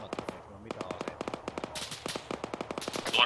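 Rapid automatic gunfire from a military video game set around an enemy-held village, bursts of sharp regular shots running through the whole stretch at close, steady loudness, with no talk over it.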